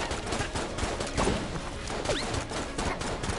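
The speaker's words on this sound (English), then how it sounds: "Oh, little bouncy bullet." Bouncy rubber bullets fire in Enter the Gungeon as a dense, fairly faint stream of rapid popping shots that runs steadily throughout.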